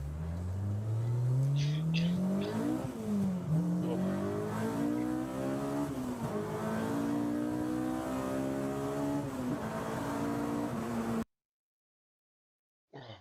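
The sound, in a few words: Honda VTEC engine revving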